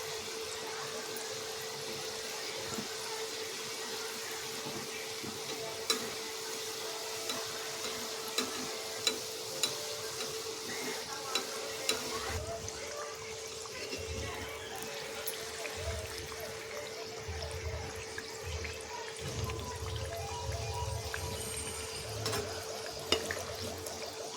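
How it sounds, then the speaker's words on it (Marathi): Samosas bubble and sizzle steadily in oil over a low gas flame, a continuous soft frying hiss with occasional small pops and clinks, no voices. "इथे आपण समोसे तेलामध्ये घालून घ्यायचे आहेत आपल्याला गॅस बिलकुल वाढवायचा नाही आहे स्लो गॅसवरतीच आपण तळणार आहोत"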